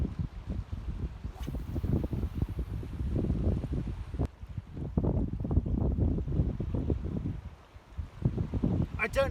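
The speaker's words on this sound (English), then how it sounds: "there is a bit of wind as well" Outdoor wind while bass fishing in the UK buffets the microphone as a rough, gusty rumble that rises and falls throughout, loud and close, with a few sharp handling knocks mixed in.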